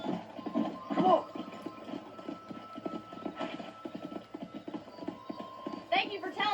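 Horse hooves clip-clopping in steady rhythm while riding and herding cattle in the video game Red Dead Redemption, moderately loud and continuous, with speech and an occasional whinny over it.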